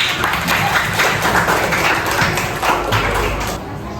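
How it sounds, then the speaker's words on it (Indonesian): Students and teachers clap together at a school presentation on the rupiah at a junior high, a dense steady wash of hands held at a constant level throughout, with a few heavier thuds near the end. "Oke, tepuk tangan semua."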